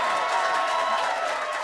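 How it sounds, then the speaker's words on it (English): A studio audience at a talk show claps and cheers for a guest's book. The applause is a short, dense wash of many hands that stays even throughout, with no voice over it. "So you gotta clap that up."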